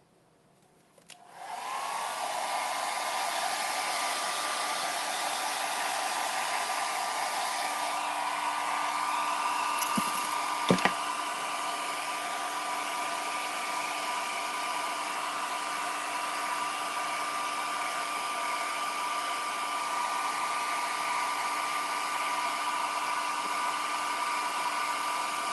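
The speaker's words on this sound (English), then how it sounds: "I'm going to dry just a little bit for you so you can see." A hair dryer switches on and runs steadily at close range while drying hair, giving a loud, even blowing whir with a constant whine for over twenty seconds, briefly interrupted by a couple of sharp clicks.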